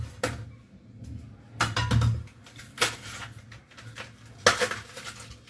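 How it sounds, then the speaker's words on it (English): A knife chops the inner portion of a banana stem on a board, making irregular sharp thuds and knocks, some louder and close, spaced unevenly with quiet gaps between. "You can either chop it"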